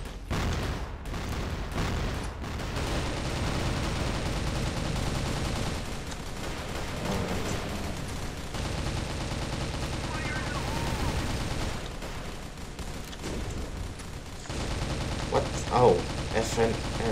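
Video game gunfire from a CrossFire weapon, an FN F2000 rifle, rattling in dense bursts through most of the stretch alongside explosions and game effects, with a brief lull near the end.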